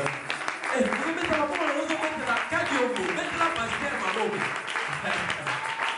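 A church congregation applauds and cheers for the pastor, with dense sustained clapping mixed with voices and shouts throughout.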